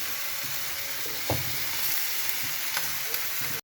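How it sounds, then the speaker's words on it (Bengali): Steady oil sizzle of snakehead fish frying in a pan, a close continuous crackle with an occasional clink of a utensil. "এই যে মাছ ভাজা হচ্ছে, মাছটা হালকা একটু ভেজে নিচ্ছি।"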